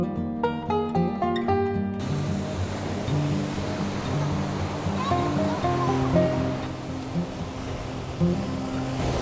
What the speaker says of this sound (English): The waves here are way more wild than at the other beaches